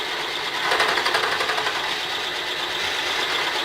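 A milling machine faces a cast part from ATV Mattracks. It gives a loud, steady whirring hum with a fast rhythmic chatter as the cutter lightly touches the surface, with no speech.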